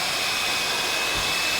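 A Panasonic hair dryer running on its turbo setting gives a steady, loud, close-up roar of rushing air that holds constant throughout, with no talking over it.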